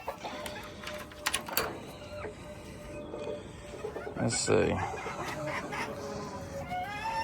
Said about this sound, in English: Some BB red Bantam chickens.